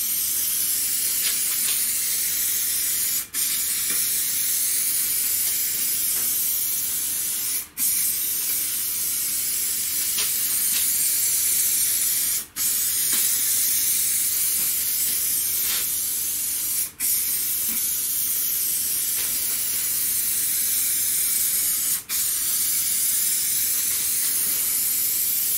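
Steady, continuous aerosol hiss of a spray paint can painting a car bonnet, loud and even, broken by brief pauses every few seconds between passes.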